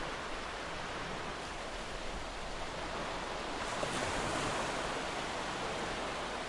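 Steady, soft wash of ocean waves, a continuous rolling surf hiss with no voices.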